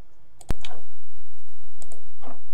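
Close, crisp clicks of keys being pressed on a computer keyboard, with one sharp loud keystroke followed by several lighter, irregular taps spread across a short stretch.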